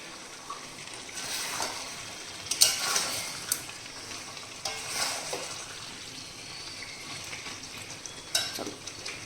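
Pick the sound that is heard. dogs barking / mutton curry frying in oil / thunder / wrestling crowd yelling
mutton curry frying in oil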